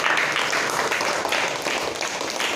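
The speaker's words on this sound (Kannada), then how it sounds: "ಆ ಮಕ್ಕಳು ಸಹ ತುಂಬ ಜೋರಾಗಿ ಚಪ್ಪಾಳೆ" Loud, steady applause from a crowd of children at a martial arts event held during a Guinness World Record attempt, dense clapping sustained evenly throughout without a break.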